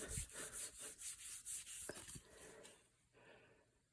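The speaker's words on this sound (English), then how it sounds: "if I just burnish this in just as I am now" Hand burnishing oil finish into a wooden gun stock, heard as a series of rhythmic rubbing strokes, about eight in quick succession, then a softer, steadier rub fading at a close, quiet level.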